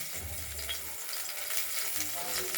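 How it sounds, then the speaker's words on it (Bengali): Cumin, bay leaf and dried chili sputter in hot oil as a tempering for a spinach curry, a faint continuous sizzle and crackle with light stirring, heard briefly on its own. "জিরে, তেজপাতা আর শুকনো লঙ্কা। পালং শাকের জন্য ফোড়ন দেওয়া হলো।"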